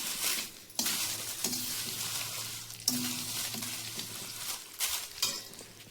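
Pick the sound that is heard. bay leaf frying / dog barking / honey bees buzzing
bay leaf frying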